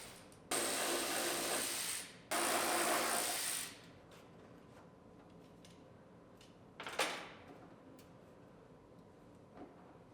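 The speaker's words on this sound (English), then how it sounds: "Pull the bolts out of the hood hinge." A ratchet removes the hood hinge bolts on a 2010 Toyota Camry, giving two whirring bursts of about a second and a half each, close by, then a short metallic clink and quiet shop background.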